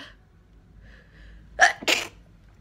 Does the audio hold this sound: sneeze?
yes